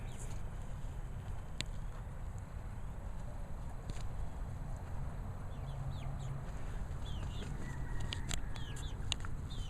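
Chickens cluck and peep faintly in the background over steady low rumble, with occasional sharp chirps scattered throughout.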